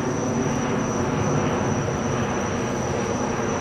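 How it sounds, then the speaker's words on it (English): A steady, loud drone from an airplane passing overhead fills the outdoor scene, holding at an even level without break or talk. "there's an airplane flying over right now"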